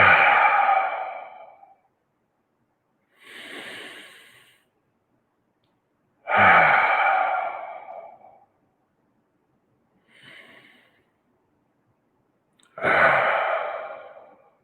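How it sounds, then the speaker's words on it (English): Three slow, deep breaths taken together during a guided present-moment meditation, each a long audible inhale followed by a sighing exhale, separated by quiet pauses, with no speech. "I'm going to invite you all to the present moment with 3 deeply satisfying breaths."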